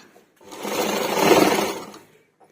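Sewing machine running steadily for about a second and a half, stitching a patch onto the front of a blouse, close and fairly loud with a soft start and stop.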